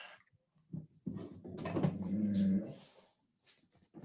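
A dog growls low and rumbling indoors, rising into a throaty snarl with a few soft whimpers around it, fairly close but moderate in loudness, with no talking over it.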